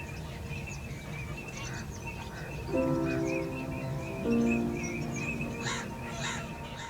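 Birds call across Hokersar wetland in Kashmir, a few harsh, crow-like caws and scattered chirps at moderate distance over a steady outdoor background.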